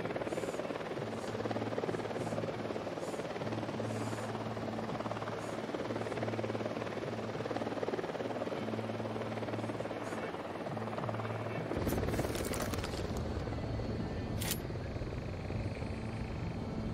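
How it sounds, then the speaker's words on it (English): An enemy helicopter approaches during a firefight in the video game Ghost Recon Wildlands, a steady rotor drone that thickens and grows louder, with game dialogue and bursts of gunfire over it. "We got a chopper coming."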